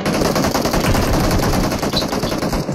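Rapid automatic gunfire in a shooter video game, a loud continuous burst of closely spaced shots with no pauses, close and dominant throughout.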